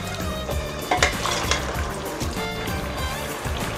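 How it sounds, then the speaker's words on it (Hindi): Chicken stir-fries in oil in a pan for nihari, giving a loud, constant sizzle with rhythmic scraping and stirring strokes, close up and without voices. "चिकन अच्छी तरह भुन जाए तो फिर जाके निहारी अच्छी बनती है"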